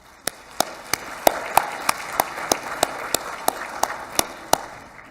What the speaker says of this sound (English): I'd like to give these judges a round of applause